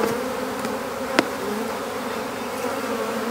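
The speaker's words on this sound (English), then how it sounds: "I'm going to put it underneath this cluster of bees and give them a good shake." A dense, steady buzz of a honey bee swarm fills the air, loud and close, as the cluster is shaken into a box, with a single sharp click partway through.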